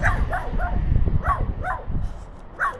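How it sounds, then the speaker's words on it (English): A small dog barks in short, sharp bursts, several yips and bow-wows spaced irregularly at close range, with a voice faintly present in the background. "Oh, look, the little dog's out today."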